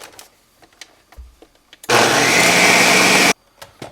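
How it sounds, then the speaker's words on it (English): A countertop blender whirs loudly for about a second and a half, blending pesto with about a cup of olive oil, between quieter kitchen clatter before and after. "we're going to go ahead and blend that a little bit before we put the cheese in"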